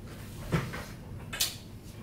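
A hotel room door in a Delhi palace hotel is shut twice in quick succession, each close a short, fairly near knock-and-latch thud against a quiet room.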